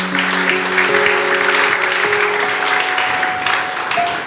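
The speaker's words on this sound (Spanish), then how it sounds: "Dale un aplauso al Señor" Congregation applause at a Spanish-language church service, steady and loud, filling the whole stretch while sustained organ or keyboard tones sound beneath it.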